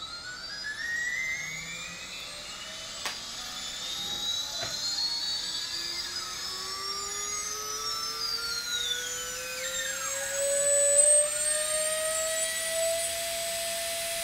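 Cyclone FPV brushless motor spinning during a KV test, giving a thin, close whine whose tones rise and sweep in pitch as it runs up and settles, with no talking.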